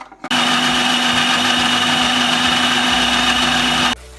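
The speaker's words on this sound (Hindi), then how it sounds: "अब मैं इसको अच्छे से ग्राइंड कर लूंगी।" A kitchen blender grinds cashews, sesame seeds and boiled almonds in one steady, loud whirring run that starts abruptly, holds for about four seconds, then cuts off.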